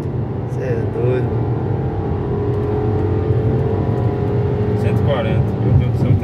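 A 2013 VW Jetta TSI 2.0 engine accelerating from inside the car, a steady hum and rising drone under continuous talk from the occupants.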